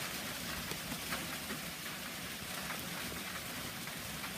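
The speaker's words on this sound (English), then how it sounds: "And we're getting a steady rain." Steady rain falls at the edge of the woods near beehives on a chilly, damp day, a dense, even patter that hisses continuously without any break.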